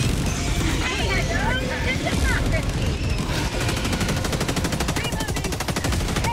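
Sustained rapid machine-gun fire in the sci-fi shooter Helldivers 2, dense continuous bursts over loud battle noise and rumble, with voices talking across the mix.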